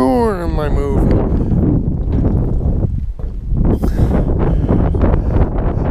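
Strong outdoor wind buffets the microphone in loud, continuous rumbling gusts, with a voice talking over it.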